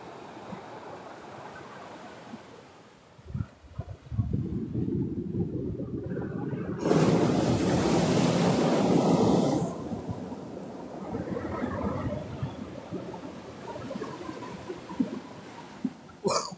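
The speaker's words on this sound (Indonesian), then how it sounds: "Ombaknya naik. Wih. Ombaknya nyamber." Ocean waves surging onto the beach at Cilacap, a rumbling wash that swells into a loud crashing surge mid-clip and then recedes into a steady roar, heard nearby.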